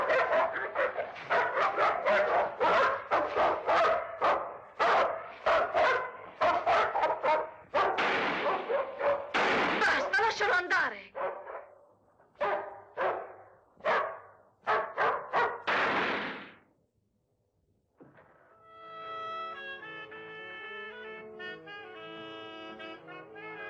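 A dog barks loudly and repeatedly at close range in an old 1950s frontier film scene, rapid bursts of barking for about sixteen seconds, then silence before music takes over.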